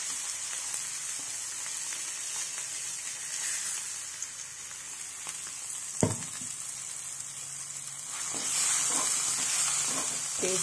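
Mint leaves fry in hot oil for a tempering, producing a steady bright sizzle with occasional stirring clicks and a sharp clatter midway, the frying growing louder toward the end.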